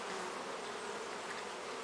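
A continuous close drone of honey bees around a hive entrance and its flight board, with foragers flying in carrying pollen; an even, busy buzz with no voices.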